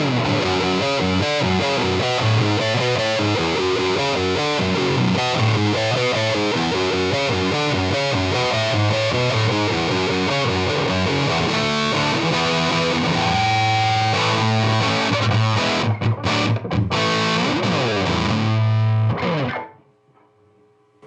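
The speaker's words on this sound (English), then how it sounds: "Distortion, pretty loud." Loud distorted electric guitar riffing steadily for about twenty seconds through a new speaker in a cardboard cabinet, thick and saturated with effects, then cutting off abruptly near the end.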